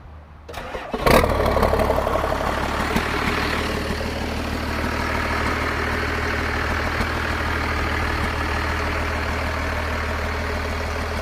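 Jeep LJ with a swapped 5.9 Cummins diesel cranks briefly, catches and settles into a loud, steady, rumbling idle close by, with no talk over it.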